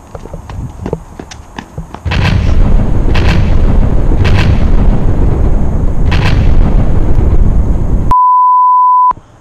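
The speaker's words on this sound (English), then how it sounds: "Step 8, more grenades." Grenade explosions in a comedy skit, several loud booming blasts in close succession over a continuous roar, preceded by smaller pops and ending in a steady electronic beep tone.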